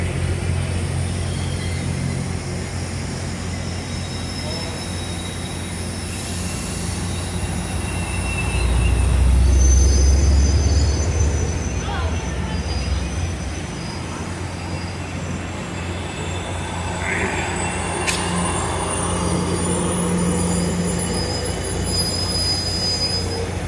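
Amtrak double-set passenger train 713/715 departs Stockton, California, with wheels squealing in long high-pitched tones over a steady rumble of railcars, loud and sustained, swelling briefly midway as cars roll past.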